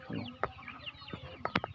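Chickens at a large two-shed poultry farm give short clucks and squawks, several sharp calls rising out of a steady background of flock murmuring, close by and fairly loud.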